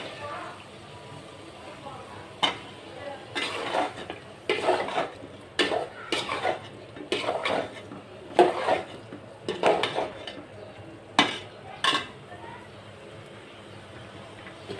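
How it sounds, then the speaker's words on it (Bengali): Bottle gourd being stirred in a cooking pot, a string of scraping, clattering utensil strokes at close range over a low kitchen hum, with a voice talking in the background at times. "লাউ দিয়ে একটু নাড়াচাড়া দিয়ে এখন ঢেকে দিব"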